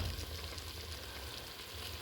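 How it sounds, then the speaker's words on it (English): Tomato paste fries in a pan for a beans stew curry, giving a steady soft sizzle that stays even and close throughout, with no voices. "The tomato is getting cooked now. Let it get cooked. We are still cooking the tomato paste."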